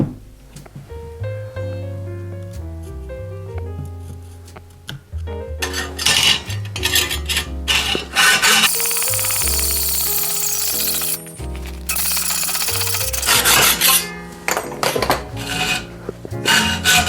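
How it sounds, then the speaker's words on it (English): A hand file rasps against a metal bicycle frame part in rhythmic back-and-forth strokes, loud and close, with clanks from handling the piece. "I'm gonna draw the lines from this and then hack it and then file."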